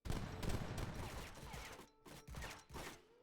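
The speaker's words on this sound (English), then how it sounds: "all of his infantry units are some easy targets for these very strong organ guns here" Organ guns firing in Age of Empires 3 DE, aimed at massed infantry: a dense, continuous rattle of game volleys with bursts that swell and fade, a brief lull near the two-second mark, then more shots.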